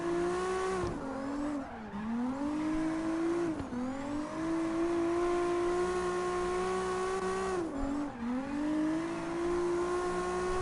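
A car drifting in CarX Drift Racing holds a loud, steady engine whine with shifting pitch, broken by brief drops where the revs dip and the tires squeal, over roughly ten seconds.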